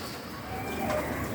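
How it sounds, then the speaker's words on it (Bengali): Pigeons coo inside a crowded loft, low rolling murmurs overlapping in a brief, close, moderately loud burst. "দেখতেছেন কবুতর অনেক বেড়ে গেছে"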